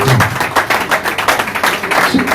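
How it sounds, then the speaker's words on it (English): A church congregation claps their hands at a thanksgiving service, with loud, rhythmic bursts of clapping repeating steadily and close, and voices mixed among them. "Please clap your hands for Jesus."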